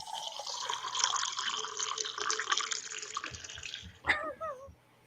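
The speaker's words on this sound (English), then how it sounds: "I'm pouring a drink." A drink poured from a bottle into a glass runs as a steady splashing trickle for about four seconds, then stops with a few short glugs and drips. Low background noise sits underneath.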